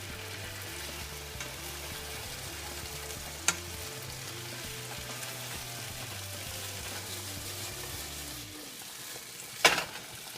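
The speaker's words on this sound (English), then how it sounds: "We're gonna let them sizzle and get a little bit of added flavor and a little bit of extra crunch" Green beans with chicken seasoning sizzle and fry steadily in a pan, a dense, continuous crackle that stays even for about ten seconds, with a low steady hum beneath and a couple of sharp clicks, no voices.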